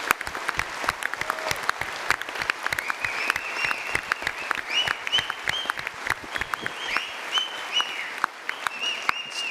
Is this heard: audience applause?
yes